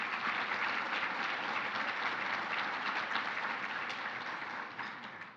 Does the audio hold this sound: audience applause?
yes